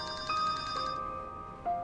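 A telephone ringtone in a hospital plays a short electronic melody of clear tones, close and steady, with no speech over it.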